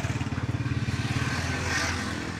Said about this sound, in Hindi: और ट्रैक्टर इस वक्त गन्ने पर चल रहा है